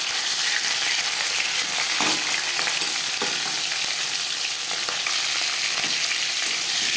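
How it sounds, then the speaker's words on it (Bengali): A hilsa fish head and tail sizzle steadily in hot mustard oil, with a loud, continuous crackle and occasional sharper pops. "সবার প্রথমে আমি মাছের মাথা ভেজে নেব আর দিয়ে দিলাম লেজ"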